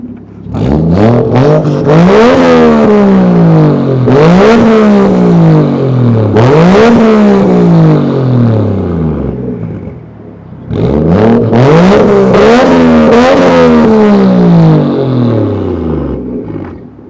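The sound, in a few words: car engine revving through aftermarket muffler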